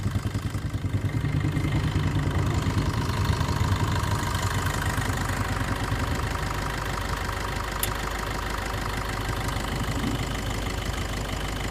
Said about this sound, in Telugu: Diesel engine.